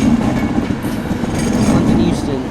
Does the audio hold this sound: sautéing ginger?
no